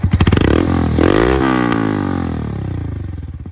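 A Honda Monkey motorcycle engine starts up and runs close by with a loud, low, buzzing tone that rises and falls as it settles into a steady idle, with no voices.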